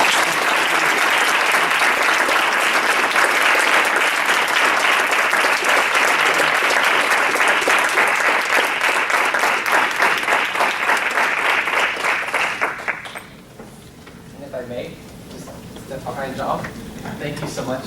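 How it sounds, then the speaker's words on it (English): Sustained audience applause fills a Board of Education meeting at a high school, loud and dense clapping for about twelve seconds before it abruptly dies away into quieter room noise and brief voices. "So a round of applause."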